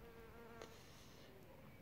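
Bee buzzing around a melliferous flowering plant in the evening, a faint steady drone against quiet outdoor background.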